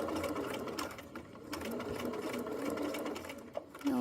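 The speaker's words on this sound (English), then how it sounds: "I'll go ahead and sew down the rest of this, and I'm going to go ahead and backstitch" A sewing machine stitching a fanny pack top panel to its zipper, a steady fast needle chatter running throughout at close range, fairly quiet, with a small clunk near the end.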